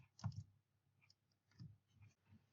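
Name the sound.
keyboard keys pressed for Windows 10 shortcuts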